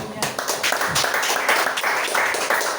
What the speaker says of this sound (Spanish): A su nombre, denle un aplauso al Señor.